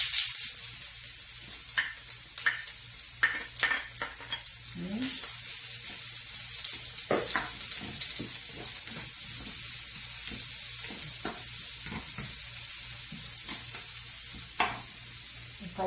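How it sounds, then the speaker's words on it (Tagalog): Garlic and onions sauté in a pan as pork is added, a continuous bright sizzle broken by regular scrapes and clinks of a spatula stirring, with a louder clatter near the start. "Sisimulan natin sa paggigisa. Ilalagay natin ang bawang, ang garlic,"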